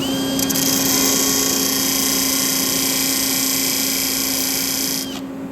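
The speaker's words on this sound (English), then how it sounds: "I put them in my drill and just sharpen them." A power drill spins a threaded rod to sharpen it, whirring at a steady high pitch, loud and continuous, with a faint grinding edge, then winds down near the end.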